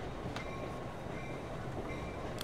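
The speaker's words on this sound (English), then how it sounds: "I'm at the train station and my train's leaving." A train rumbles at a station in the game Irony Curtain, a dense continuous roar of rolling wagons with faint clicks and squeals, steady and fairly loud.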